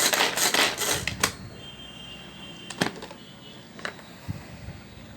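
A manual vegetable chopper cuts carrot finely, first in a fast rattling clatter of blade clicks, then in a few isolated sharp clacks.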